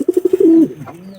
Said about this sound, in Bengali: পায়রা